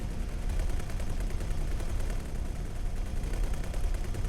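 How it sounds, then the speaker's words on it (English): A dense, unbroken barrage of rumbling explosions and rapid gunfire fills a space battle in the game X4: Tides of Avarice, loud and steady throughout. "Explosion imminent."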